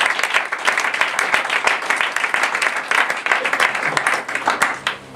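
A church congregation applauding for the Lord, dense rhythmic clapping from many hands close by, sustained throughout with a faint voice in the background near the end.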